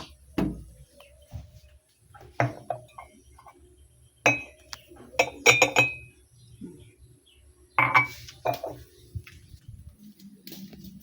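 A large glass of coffee clinks in scattered sharp taps and rattles, close and fairly loud, with light bird chirps in the background.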